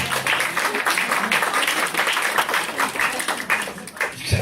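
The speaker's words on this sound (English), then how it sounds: "Let's hear a round of applause for them." Dense audience applause, a continuous patter of many hands clapping at moderate loudness throughout.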